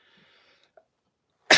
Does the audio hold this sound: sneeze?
yes